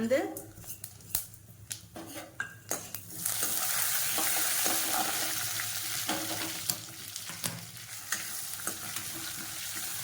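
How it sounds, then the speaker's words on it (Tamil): Pepper, cumin, fenugreek and mustard seeds sizzle and splutter in hot oil with a steady crackling hiss, preceded by sharp clicks and taps close by, while someone talks over it. "மிளகு, சீரகம், வெந்தயம், கடுகு இது எல்லாத்தையும் நல்லா பொரிஞ்சுக்கணும்."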